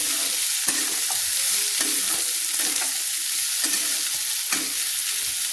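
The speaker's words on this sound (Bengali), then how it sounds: "দিয়ে আমি একটু ভালো করে নেড়ে নিচ্ছি" Spoon stirring turmeric into spices frying in a pan for a spicy mourola fish curry, a steady hiss of frying under repeated soft scraping strokes, close and alone with no talk.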